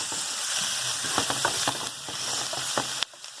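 Fajitas sizzle and fry steadily in a hot pan, a continuous close hiss punctuated by light scraping clicks of stirring, before the sound drops away abruptly near the end.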